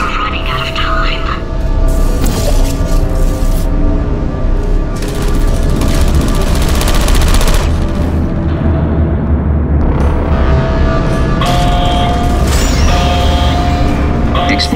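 In Portal 2, a facility tremor produces loud, deep rumbling and booming crashes with mechanical clatter that swell and persist across the scene, while a synthetic voice speaks over the noise.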